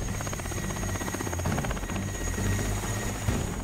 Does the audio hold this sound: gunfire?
no